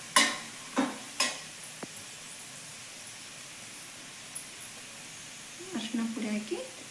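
A spoon scrapes a pan of garlic, green chillies, curry leaves, peanuts, roasted gram and turmeric for North Karnataka spiced puffed rice: three sharp stirring scrapes, then a quiet stretch and a softer sizzling rustle of frying near the end.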